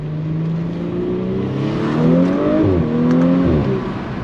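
A B9 Audi S4 with an S-Tronic dual-clutch gearbox pulls hard, its engine note climbing steadily and then dropping sharply at quick gear changes, loud and close throughout.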